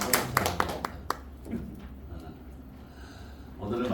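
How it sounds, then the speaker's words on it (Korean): A few sharp handclaps from a church congregation after a hymn at a Sunday service, brief and sparse, fading into quiet room sound with speech nearby. "다시 한번 박수."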